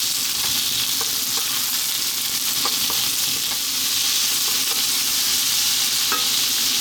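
Green beans and carrots stir-fried over high heat in a hot pan, a loud constant sizzle punctuated by repeated scraping and tossing clatters, close up and with no voices.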